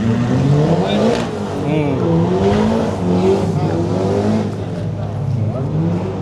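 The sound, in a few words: Toyota 86 cars revving at a car event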